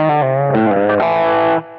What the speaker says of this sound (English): can hear that's got more of like a nasal quality because I'm playing with drive there